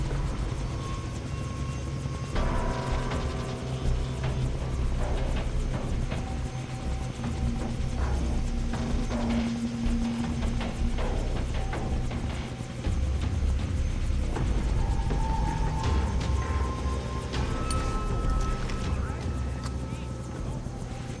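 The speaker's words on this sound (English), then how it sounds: "Can't let them put Ollie in the chopper." A helicopter's steady rotor drone in Far Cry 3 runs throughout, loud and continuous, with game effects and scattered voices layered over it.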